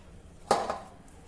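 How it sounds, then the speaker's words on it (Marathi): A single soft thud and brief scrape as a fenugreek bhakri flatbread is laid onto a hot iron griddle, close and clear against a quiet kitchen background. "या लोखंडाच्या तव्यावर आता ही भाकरी घालूया"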